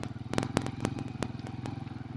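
Motorcycle riding through farm fields near Lahore, a steady low engine putter with sharp clicks and rattles over the drone, close and moderately quiet.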